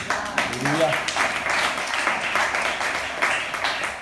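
Church congregation clapping in rhythmic bursts, moderately loud and roomy, with a voice speaking over the applause at the start.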